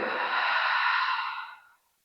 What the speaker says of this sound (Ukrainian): І видих.